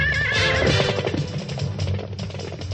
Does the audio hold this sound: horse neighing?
yes